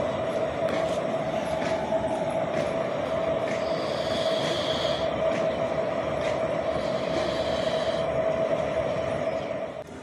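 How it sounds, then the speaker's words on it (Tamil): A railway locomotive for the train to Ahmedabad idles at a station on a foggy day, a loud, steady mechanical rumble with a constant hum and occasional faint clanks, fading slightly at the end. "அதுதான் நமது லோக்கோ."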